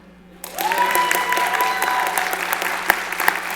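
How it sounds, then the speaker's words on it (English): Audience applause at a pinball industry presentation introducing the founder of Jersey Jack Pinball, starting suddenly and holding steady as dense clapping for about three seconds, with a faint tonal whine running underneath. "Go ahead and clap."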